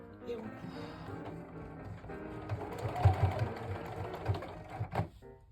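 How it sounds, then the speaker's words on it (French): Sewing machine stitching along the hem of denim jeans, a mechanical whirring rattle in short bursts, close by, with a voice speaking over it. "Hop, je plante pile au bord et on coud."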